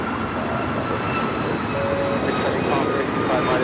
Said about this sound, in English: This is United Airlines 2443 taking off to Cleveland on the MAX 8